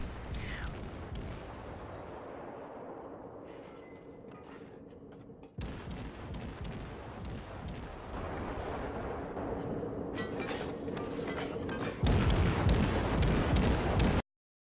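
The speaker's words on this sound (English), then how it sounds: "I launch a spread of torpedoes while continuing to fire my deck artillery." A relentless barrage of heavy naval gunfire in World of Warships from a Japanese Kuma cruiser: booming deck artillery shots overlap with blasts and explosions, loud and close, swelling even louder near the end.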